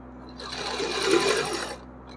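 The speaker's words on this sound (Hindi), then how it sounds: "यहाँ पर सिलाई लगा देंगे" A sewing machine stitches a small dhoti dress for a Laddu Gopal figure in one short continuous run that ramps up, holds its whirring rattle close by and stops, with no talk over it.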